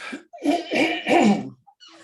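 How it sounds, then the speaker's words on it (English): A person clears their throat with a few rough, gravelly rasps in quick succession, close and fairly loud. "let me clear my throat"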